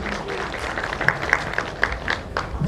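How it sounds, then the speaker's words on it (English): Audience applause at a business summit in Eldoret, steady moderate clapping with distinct sharper claps standing out, continuing evenly throughout. "a round of applause for her"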